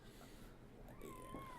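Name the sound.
cat meowing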